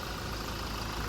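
Toyota Hilux Conquest pickup engine idling close by, a steady low rumble with constant hum and no voices, brief and unchanging.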